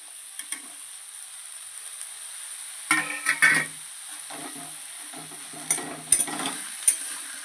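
Ginger, garlic, green chilli, onion, capsicum and beans fry together in a pan. A few short bursts of sizzling and stirring clatter break through a mostly quiet background.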